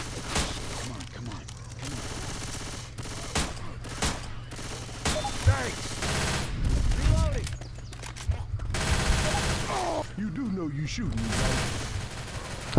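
Rapid gunfire from the Left 4 Dead 2 zombie video game crackles in loud bursts and volleys throughout, mixed with game effects while players talk and shout over it.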